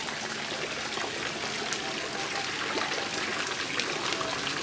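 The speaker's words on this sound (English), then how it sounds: "peaceful sound of the water" Steady, gentle rush and trickle of fountain water in a garden at the Getty Villa near Malibu, continuous and fairly quiet with no talking.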